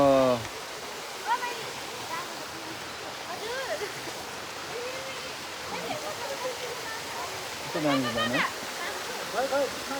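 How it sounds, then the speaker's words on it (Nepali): A steady rushing roar of a waterfall fills the background while a person talks over it. "मेरो पछाडि"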